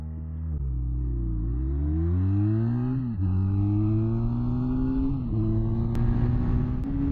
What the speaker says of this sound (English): Let's see how this bike does on a 0-60.